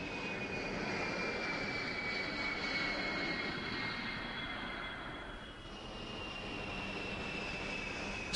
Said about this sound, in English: Six Air Force C-141 Starlifters fly in close formation.